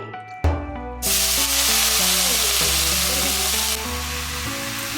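Cut brinjals hit hot oil with a sudden loud, steady sizzle that jumps in at about one second and carries on hissing under faint kitchen sounds and musical tones, easing slightly near the end.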